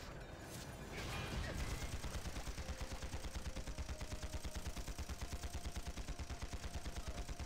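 Dense, continuous automatic gunfire from a Panzar winter battle, rapid regular bursts running steadily throughout at high loudness, with no voices over it.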